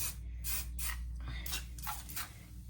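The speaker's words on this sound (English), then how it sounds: "I'm going to be using non-stick spray just to spray" Several short hissing bursts from an aerosol can, about six quick sprays in an irregular rhythm, close to the microphone.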